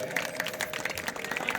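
Dense applause from a crowd of spectators greeting a palanquin dance troupe in traditional costume at a village palanquin competition, steady and continuous throughout, with a voice faintly mixed in.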